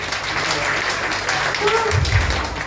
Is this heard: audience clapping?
yes